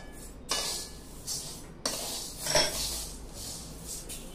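Sorghum grains dry-roast in a pan, bursts of rattling, rustling stirring with a few metallic clinks of a spoon against the pan, close and fairly quiet with no talk.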